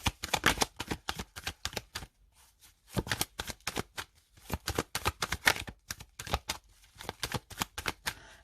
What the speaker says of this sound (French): Je mélange un petit peu pour l'autre.